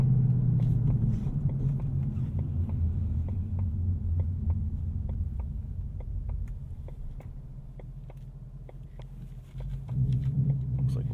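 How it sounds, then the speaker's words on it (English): Exhaust burble from a 2018 Ford Mustang GT Premium Performance Pack while driving: a low, steady engine rumble overlaid by a regular series of faint popping ticks, heard from the cabin and dipping slightly before swelling again. "Burbles a little bit more"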